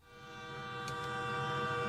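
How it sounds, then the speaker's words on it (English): Slow train passing in a cat horror video game, a sustained tonal rumble with horn-like harmonics that swells steadily louder over the short span, with two faint high clicks midway. "that train is so slow you can just dodge"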